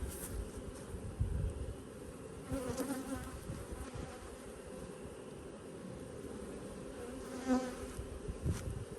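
Honey bees drone in a dense, steady buzz from an open hive in an early-spring bee yard, close and fairly quiet, with occasional individual bees swelling louder as they pass near.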